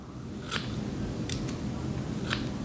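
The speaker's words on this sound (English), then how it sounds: "And I'm just gonna cut it kinda at an angle" Scissors snipping wig hair at an angle, with three or four crisp, close snips at irregular intervals over a steady low hum of room noise, and no talk during the cuts.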